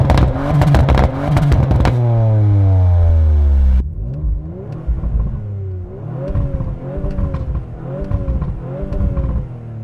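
Audi RS5 fitted with a full Remus exhaust, valves open in dynamic mode, revs hard and loud up close, then drops to a lower burbling engine note with repeated rising pulls as it drives on.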